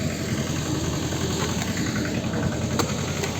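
A tractor engine idles parked on a farm field, a steady close rumble with a continuous low throb that holds even through the whole stretch with no one talking.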